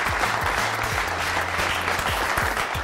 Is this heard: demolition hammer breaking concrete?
no